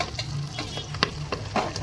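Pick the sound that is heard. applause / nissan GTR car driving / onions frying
onions frying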